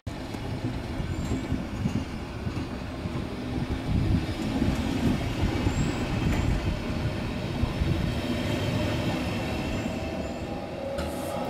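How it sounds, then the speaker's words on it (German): A regional express of eight carriages bound for Aalen pulls out of platform 7, hauled by a modern three-phase class 146 electric locomotive: a steady, loud rumble of rolling wheels with faint high squeals and rail clatter, no voices. "An Gleis 7 fährt ein Regionalexpress mit 8 Wagen nach Aalen aus."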